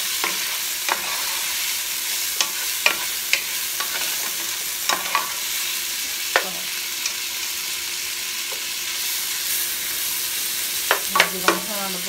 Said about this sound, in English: I'm going straight in with my bell, with my onions, and then I'm going to add potatoes